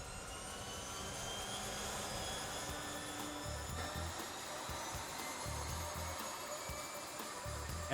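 A de Havilland Canada DHC-2 Beaver radial engine in flight at 8,500 feet over Idaho, a steady, loud, droning roar with whining overtones, continuous throughout and with no voices.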